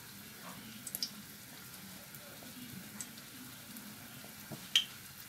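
Crispy Ramadan qatayef fry in moderately hot oil, giving a soft, steady sizzle close by with occasional small pops and crackles.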